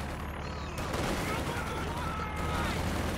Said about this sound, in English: Grenade, nice grenade though.